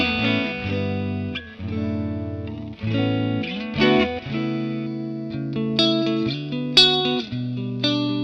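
Electric guitar played through a Vox amp with the tone control fully open, ringing out a bright, clean sequence of sustained notes and chords that flow continuously at moderate loudness with no talk.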